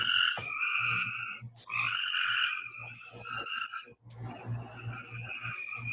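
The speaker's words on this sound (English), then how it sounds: "It's the frog chorus." A chorus of frogs croaks steadily outdoors, many overlapping calls forming dense, continuous trilling with brief dips, heard alone without any talk.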